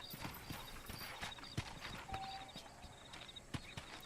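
Horse hooves clip-clopping at a walk in Red Dead Redemption, an even, moderately quiet beat of hoof strikes with a faint whinny partway through.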